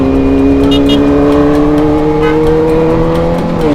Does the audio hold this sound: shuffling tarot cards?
no